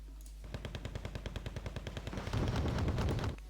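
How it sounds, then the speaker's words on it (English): Panzer Grenadier infantry firing in the Wargame: Red Dragon strategy game, a rapid regular burst of automatic gunfire at an even rhythm, thickening into a denser, louder rattle toward the end, with no talking. "Panzer Grenadiers fired again."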